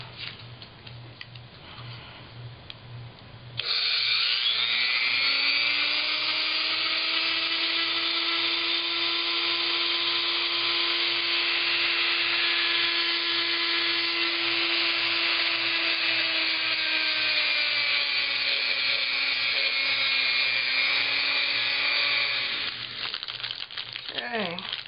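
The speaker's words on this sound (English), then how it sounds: "You have to be really careful when using your Dremel with these kinds of things because they're made out of just really cheesy pot metal." A Dremel rotary tool spins up with a rising whine, then grinds steadily on cheap pot metal shadowbox hardware for about twenty seconds before winding down, close and fairly loud; faint ticking runs underneath.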